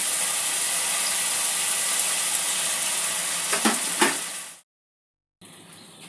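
Spice paste with ginger paste frying in a pan for a brinjal curry with coconut, a loud steady hiss and sizzle with a couple of stirring scrapes, then a sudden cut and quieter sizzling.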